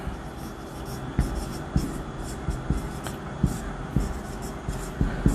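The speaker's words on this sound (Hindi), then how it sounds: "चलिए यहां पर हम लिखते हैं अब ये" Chalk or marker taps and scrapes on a classroom board during a Hindi grammar lesson: a regular series of short, sharp strokes spaced about half a second apart over a steady room murmur.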